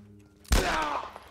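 A single sniper rifle shot in the video game The Last of Us, a sudden loud crack with a heavy low thump, followed by a ringing, decaying echo.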